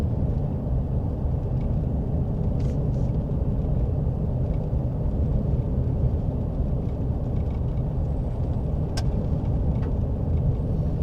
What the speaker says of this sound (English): I see a car coming the other way.